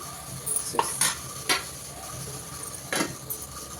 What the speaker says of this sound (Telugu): టమాటాలు వేసి ఒకసారి మంచిగా కలిపి మూత పెట్టేస్తాను.